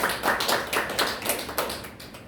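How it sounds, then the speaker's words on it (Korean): Church congregation clapping in a sanctuary after a student faith lecture, a brief burst of dense, steady hand claps with soft rhythmic peaks, moderately loud and without voices. "박수 한번 쳐주시기 바랍니다"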